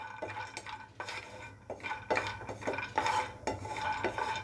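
Nuts dry-roasting in a pan over a low flame with no oil, stirred so a spoon scrapes and clinks against the metal in repeated bursts. No one speaks.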